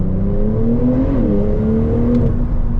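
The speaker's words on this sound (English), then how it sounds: "This has the optional sports exhaust, so the exhaust note is actually awesome, especially with the top down" A 2024 Porsche 911 Turbo Cabriolet's optional sports exhaust drones loudly and steadily with the top down, its deep engine note rising and dipping slightly as it revs while driving.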